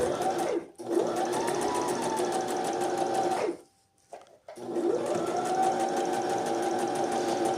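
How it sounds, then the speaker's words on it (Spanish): A sewing machine runs in two steady bursts of stitching along the edge of a trouser zipper, with a short pause between them and no talk. "Ahorita voy a coser solamente a la orillita del cierre"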